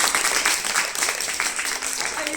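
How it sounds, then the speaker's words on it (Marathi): A classroom of students claps together, a dense patter of many hands that stays loud and steady and lasts a couple of seconds. "टाळ्या वाजवा त्यासाठी"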